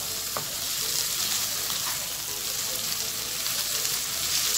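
Chicken gizzards fry alone in a pan before the liver goes in, giving a dense, even sizzle and crackle that holds steady and close throughout with no voices.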